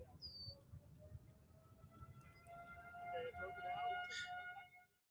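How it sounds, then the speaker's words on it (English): Outdoor tornado warning sirens wail faintly in the distance as a steady drawn-out tone, with voices talking quietly over them. "You know, the tornado sirens too."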